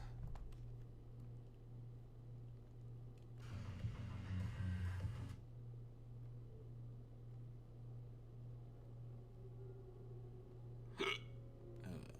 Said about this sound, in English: Fucking hiccups.